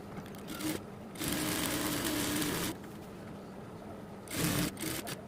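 A sewing machine stitches the side seam of a kameez in short bursts, whirring for a second or so, pausing, then running again, close and moderately loud.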